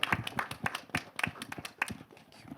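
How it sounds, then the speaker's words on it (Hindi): Scattered applause at a film trailer launch event, a small group clapping in an uneven rhythm of distinct, fairly close claps with no speech over it. "एक बार जोरदार तालियां"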